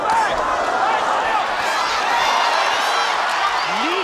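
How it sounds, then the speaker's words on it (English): A boxing arena crowd roaring approval during the June 2012 Julio Cesar Chavez Jr. fight against Lee, a loud, sustained mass of cheering voices with scattered whoops and clapping. "And the crowd roars their approval"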